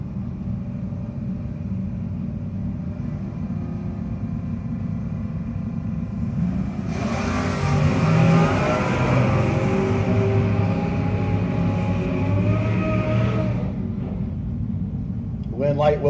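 Drag race cars at a No-Box 660 shootout, one of them a Granada, rumble in the distance under a track announcer's commentary, then a louder roaring launch swells for several seconds before fading back to a low rumble.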